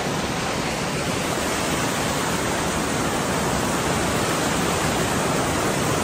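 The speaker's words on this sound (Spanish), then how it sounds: "Cascada." A waterfall on a hiking route near Peñalba roars as a steady, dense, unbroken rush of falling water, loud and constant throughout with no voices.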